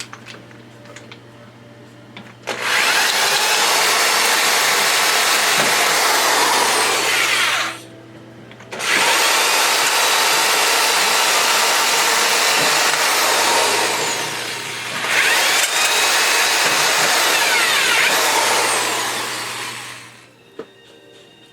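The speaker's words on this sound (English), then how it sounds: "After drilling is completed," A power drill bores out rivets on a PC case panel during a custom build. Three long, loud, steady whining bursts are separated by short pauses, with no talking.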